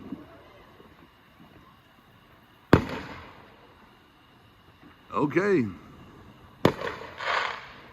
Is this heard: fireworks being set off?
yes